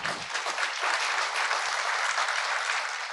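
Audience applause at the close of a lecture, dense and steady, sustained enthusiastic clapping filling the whole stretch with no voices.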